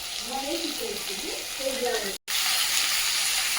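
Capsicum frying in hot oil for chilli paneer, a steady close sizzle and hiss throughout, with a voice faintly talking over it before a brief cut.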